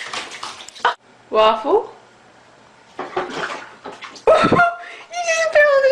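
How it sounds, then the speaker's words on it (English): A cat falls into a toilet, with bursts of water splashing and sloshing mixed with loud, excited voices talking and exclaiming close by. "You just fell in the toilet!"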